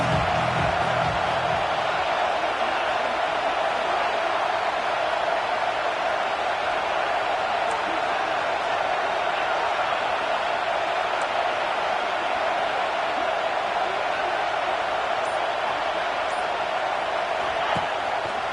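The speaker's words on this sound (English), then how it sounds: "This Auburn crowd trying to conjure up a little magic here on 3rd down." Auburn football stadium crowd roaring steadily on a third down, a dense, loud wash of cheering held at an even level throughout with no letup.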